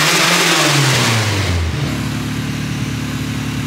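A rear-wheel-drive Honda Civic engine on a dyno winds down from a loud rev to a steady, rumbling idle, loud and close with roaring mechanical noise throughout.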